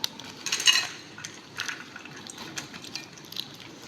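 Crunchy Kurkure snacks drop into a bowl as a cluster of light, rattling clinks and rustles, close and fairly faint, followed by a few smaller scattered taps.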